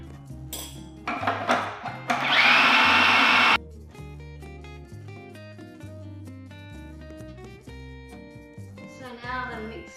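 A blender whirs through a black bean brownie mixture with plant-based milk in one loud, harsh burst of about a second and a half, set against background music before and after.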